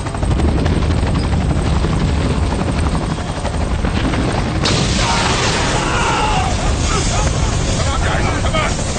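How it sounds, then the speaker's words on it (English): Loud, continuous helicopter rotor and engine roar fills a tense film action scene at a reactor site, steady and close throughout, with a windy rush joining in partway. "Take him to the chopper."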